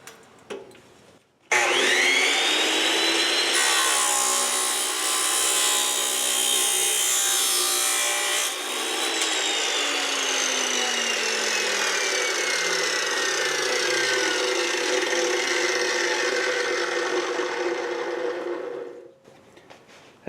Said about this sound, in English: and run the saw.